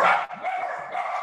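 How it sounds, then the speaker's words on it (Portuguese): A small dog barks a couple of times at close range, a sharp yip followed by shorter yaps, over a quiet indoor background. "Um cachorrinho aqui."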